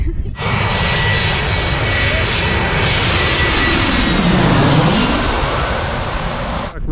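A jet airliner roars overhead while taking off above a beach in Phuket, a loud, continuous blast with a sweeping pass at close range; no talk is heard over it.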